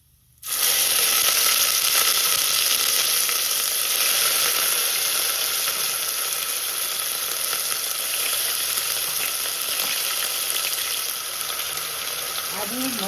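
Ginger and green chilies sizzle steadily in hot oil in a pan with bay leaf, cinnamon, clove and turmeric, a loud continuous frying hiss with faint stirring scrapes from start to finish.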